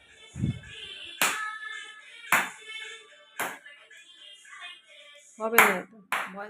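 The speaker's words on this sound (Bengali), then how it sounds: "খোশ মেজাজে আহ্লাদে হাততালি দিয়ে দিয়ে গান শুনছে" Someone claps along to a song, a few sharp separate claps spaced about a second apart over faint background sounds and a soft low thump early on.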